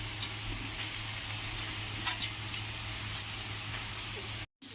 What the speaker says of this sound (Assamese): এইখিনি সিজালৈকে এতিয়া আমি ধুনীয়াকৈ এইখিনি ভাজি ল'ম।